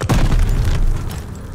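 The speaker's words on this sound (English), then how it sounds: "Grenade, get down!" A grenade blast in the Call of Duty: Vanguard prologue, a single loud, close boom that rumbles briefly and fades over about a second.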